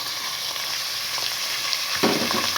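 Chopped capsicum, cauliflower and cabbage sizzle steadily in a hot pan, a close continuous frying hiss with a brief louder stir near the end.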